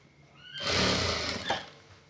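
A sewing machine stitches the side seam of a three-button half-sleeve shirt in one short burst of about a second, a close, fast mechanical whir that starts and stops abruptly.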